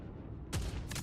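Bolt accelerator cannons fire in a video game, two sharp bursts about half a second apart that cut into a quiet background, close and punchy with no talk.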